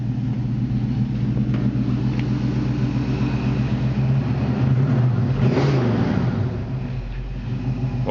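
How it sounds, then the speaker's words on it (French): A 1966 Ford Mustang V8 rumbles steadily up close, a deep continuous engine drone with a swell of revving around the middle before settling back to idle. "un essai de démarrage, un essai moteur et surtout pour entendre le bruit de la voiture qui est assez phénoménal"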